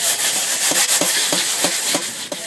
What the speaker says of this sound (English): now with the polystyrene float we'll work all the edges in